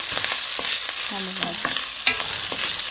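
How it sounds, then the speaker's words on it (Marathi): Cooked rice being sautéed in a spoonful of ghee in a pan, with soft sizzling and repeated scraping strokes of a spoon against the pan, close and clear with no talk. "इकडे मी तूप टाकलं एक चमचा त्याच्यात आपण हा शिजलेला भात टाकायचा आहे हा भात टाकला आहे त्याचा चांगला परतून घ्यायचा"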